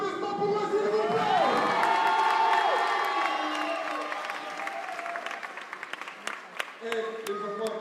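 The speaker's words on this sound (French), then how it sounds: "J'ai dit un maximum d'applaudissements pour eux, s'il vous plaît." At an African market event in Luxembourg, a lively crowd cheers, whoops and applauds, with children shouting and voices calling out. The roar swells early, then thins into scattered claps and shouts.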